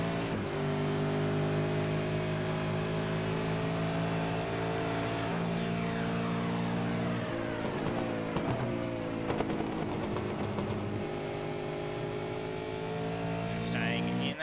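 Race cars in the iRacing Super2 Series at Willow Springs International drone continuously. Their engines run at close range in a thick, layered pack, and the pitch swoops as the cars lift and accelerate through the corners.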